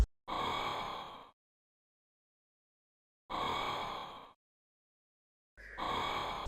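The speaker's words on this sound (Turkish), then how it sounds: "Ve işin garip yanı bu sesin adı breath, nefes alma." Three long, breathy exhalations from a character breathing sound in Minecraft Alpha, separated by silence, each lasting about a second, heavy and close like a deep sigh.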